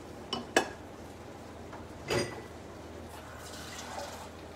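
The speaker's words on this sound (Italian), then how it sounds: "mettiamo un altro pochettino d'acqua proprio poco poco" A little water added to risotto cooking in a pan with celery and prawns: a couple of sharp metallic clinks of a utensil on the pan, a brief splashy sizzle, then quiet kitchen background.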